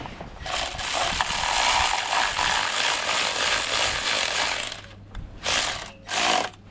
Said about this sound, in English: Go nice and slow with the electric ratchet.